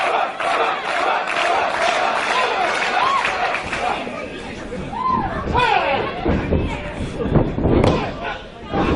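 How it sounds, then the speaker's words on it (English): A hometown crowd at a live Evolve wrestling event roars and shouts in reaction, with thuds of the match mixed in and a commentator talking over the din. "And he hears it from the hometown crowd."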